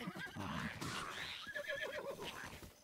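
A horse in the Zelda: Breath of the Wild video game lets out a whinnying neigh that rises and wavers for a couple of seconds, fairly faint, over quiet game ambience.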